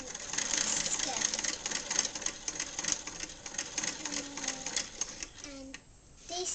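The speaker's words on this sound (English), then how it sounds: "this sewing machine was made in 1980" Sewing machine built in 1980 stitching a skirt, a steady fast mechanical whir and rapid needle clatter running for about five seconds up close, then stopping briefly before resuming, with a voice faintly underneath.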